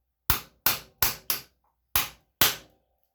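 A hammer strikes the outer cage of a front wheel bearing on a 4x4 ATV to seat it, making six sharp, close metallic knocks. Four come in quick succession, then two more follow after a short pause.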